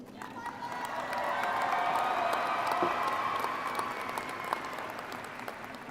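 Steady applause from a large audience at a high school graduation ceremony swells and holds for several seconds, with a faint crowd murmur underneath.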